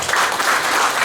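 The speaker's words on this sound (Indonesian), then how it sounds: "Yang setuju boleh tepuk tangan buat Tuhan Yesus." Congregation at an online church service clapping hands together, a dense, steady burst of applause that holds evenly for about a second with no voices over it.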